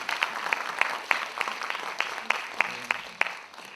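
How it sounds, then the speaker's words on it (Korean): Applause from a forum audience, a sparse and fairly quiet patter of individual claps at an uneven rhythm, with faint voices underneath. "박수 한번 부탁드리겠습니다"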